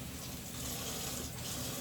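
Tap water runs into a measuring cup in a kitchen, a steady soft hiss of flowing water with no pauses.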